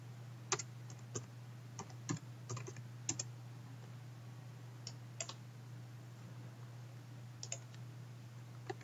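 An assignment name is typed on a computer keyboard: quiet, scattered key clicks in short bursts and single taps over a low steady hum.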